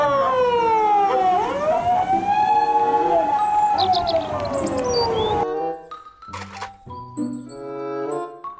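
A loud electronic siren rises and falls in a wavering wail over a busy, tinkly background, then stops and gives way to short bright beeps.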